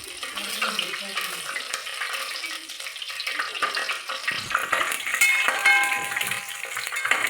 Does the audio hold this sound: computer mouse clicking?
no